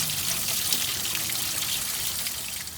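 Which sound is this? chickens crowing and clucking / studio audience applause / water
water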